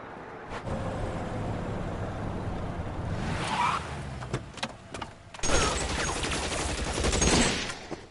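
Rapid bursts of drive-by gunfire in L.A. Noire crackle over a rumbling vehicle, with a few sharp cracks followed by a longer, louder volley.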